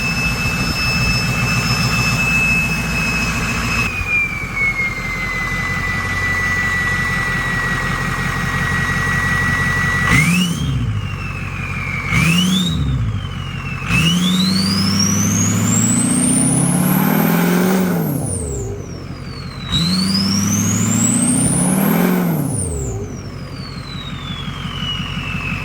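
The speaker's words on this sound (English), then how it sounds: "So for the third test, we are gonna be doing rev limiter." A Ford 6.0 Powerstroke diesel engine idles, then revs repeatedly, rising sharply and climbing up to the rev limiter before dropping back, loud and close with no talking.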